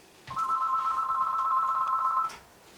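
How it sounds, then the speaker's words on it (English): A telephone rings once with a steady electronic trill lasting about two seconds, clear and fairly close in a quiet room, with no one talking over it. "There's that phone again."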